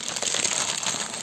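A plastic bag holding LEGO Minions kung-fu set parts crinkles and rustles continuously up close, a dense crackly texture with no speech.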